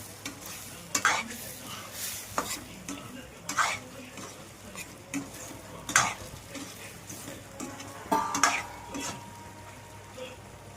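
Eggs cracked into a pan of simmering egg masala: sharp taps and metallic clatter recur every second or so over a low, steady sizzle, close and moderately loud, with no one speaking.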